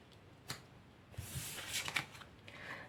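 Tarot cards are shuffled and drawn in a few soft, close riffles and slides, quiet and alone with no talking.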